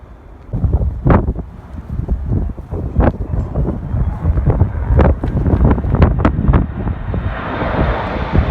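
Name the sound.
strong wind blowing into the microphone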